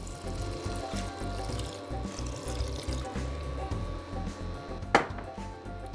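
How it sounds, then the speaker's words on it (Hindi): Water poured into a pot of cooking masala with curd and tomato, a steady rushing pour that runs throughout at moderate level, with a brief sharp clink near the end. "अब डालते हैं थोड़ा पानी।"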